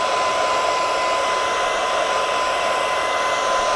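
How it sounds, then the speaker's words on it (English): A hair dryer blows chaff from home-roasted Ethiopian coffee beans, steadily and loudly with a constant whirring hiss and a thin whine, unbroken and close throughout. "Blowing some of the chaff out of it."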